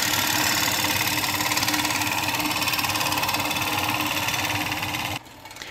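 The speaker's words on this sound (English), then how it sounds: "Here we're using the negative rake scraper on the exterior of the bowl" A negative rake scraper cuts the exterior of a spinning ash bowl on a woodturning lathe, giving a loud, continuous whirring scrape with a fine rhythmic texture that drops away abruptly near the end.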